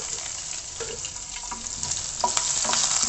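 Chopped large onions hitting hot oil with fennel seeds and cinnamon for a pepper mushroom masala, a steady close sizzle and crackle that swells louder toward the end, no talking.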